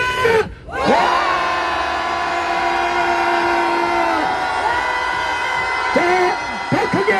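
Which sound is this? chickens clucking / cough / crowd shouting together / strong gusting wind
crowd shouting together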